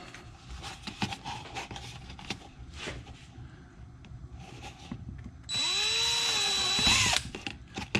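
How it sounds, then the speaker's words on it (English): A small power drill bores into the base of a homemade hummingbird feeder heater, a brief high whining burst that ramps up then cuts out near the end, preceded by quiet handling clicks and shuffling. "so I'll grab my little drill."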